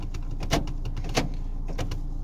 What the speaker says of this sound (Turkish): Kapı açma kapama sesleri.